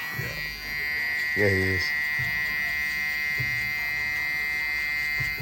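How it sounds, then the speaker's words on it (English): A Caliber .22 Stinger hair trimmer buzzes in a steady, close electric drone throughout, with someone briefly speaking over it. "I'm gonna put this trimmer to use today."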